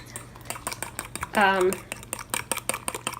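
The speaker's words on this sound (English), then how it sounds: "I'm going to just take a fork and I'm going to whisk this as vigorously as possible without making a mess" A fork whisks flour vigorously in a cup for a pot pie filling, a rapid clatter of metal tines scraping and tapping against the cup's sides, close and fairly loud, with a brief burst of voice in the middle.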